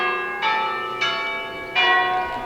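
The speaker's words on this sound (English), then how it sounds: "And there go the bells." Church bells ring out in three distinct, bright strikes about a second apart, each leaving a long shimmering decay, heard at moderate distance with no talk over them.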